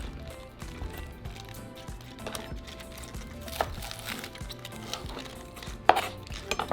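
A knife finely chopping lettuce for a Mexican cold salad, with quick uneven cuts against a board. Faint clatter runs throughout, and a sharper knock falls near the end.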